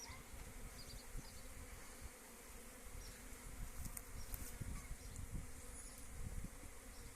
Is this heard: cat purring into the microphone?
no